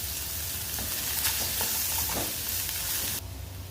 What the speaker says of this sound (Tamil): ஒரு பெரிய வெங்காயம் ஃபைனாக சாப் பண்ணி சேர்த்துக்கிறேன்.